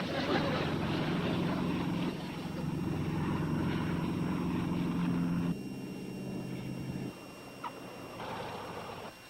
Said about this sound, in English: Look, the plane is coming down.